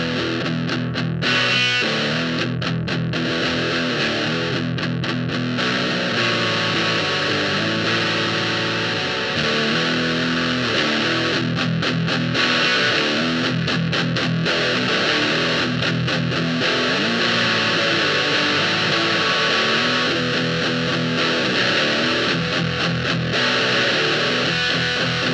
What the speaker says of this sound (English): using the Doom Screamer to help accentuate the mids in the frequencies, and we're going to run it into a dirty amplifier